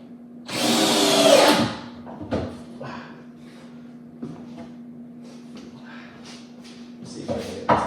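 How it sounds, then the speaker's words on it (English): A cordless power drill drilling wood whirs loudly for about a second, then stops; a few short bursts and handling clatters follow over a faint steady hum. "Battery's going. I've got another drill."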